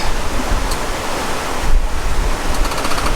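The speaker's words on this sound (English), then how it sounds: "And a wee bit of wind." Sailboat at sea in strong wind: a steady, loud, close roar of wind and rushing waves fills the whole stretch, with no talking.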